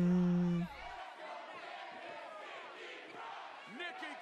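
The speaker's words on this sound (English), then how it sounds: "So the crowd seems to be, let's go Candice and Nikki Cross" A live wrestling crowd at WWE NXT chants and yells in an arena, a loud roar cutting off early, then a more distant, murmuring crowd with scattered shouts and whoops.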